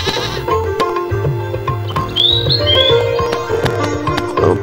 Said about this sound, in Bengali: ছাগলটা পিছনে বাড়ছে কেন?